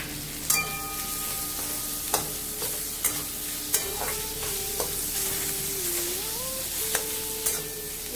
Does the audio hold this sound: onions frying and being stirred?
yes